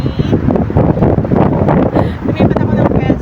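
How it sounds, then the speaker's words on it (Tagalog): Strong wind buffets the microphone outdoors in steady, loud low rumbling gusts throughout, with voices faintly mixed in. "ang laki ng hangin niya guys"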